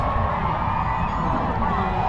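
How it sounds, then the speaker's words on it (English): A parade crowd at the McAllen Holiday Parade keeps up a steady wash of cheering and applause, a constant dense roar with no breaks. "Lots of applause, lots of folks responding"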